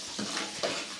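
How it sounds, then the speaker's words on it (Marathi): Spice masala is stirred and roasted in a pan, a short close scrape of a spoon through the mixture over a soft frying sizzle, with a couple of brief stirring strokes. "मिक्स करून चांगला मसाला भाजून घ्यायचा"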